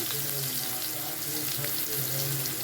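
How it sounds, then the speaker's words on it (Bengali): Green chilli, cumin and whole garam masala tempering in hot oil, a steady, close, even hiss of sizzling that runs unbroken throughout without any talk. "কাঁচা লঙ্কা দিলাম, জিরে ফোড়ন দিচ্ছি, আর গোটা গরম মশলা ফোড়ন দিলাম, তেজপাতা দিয়ে দিলাম"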